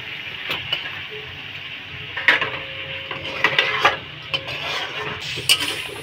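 Onion is stir-fried in a pan with salt, chili powder and turmeric. A spoon scrapes and clatters against the metal pan over a soft sizzle, with scattered clinks and taps at close range.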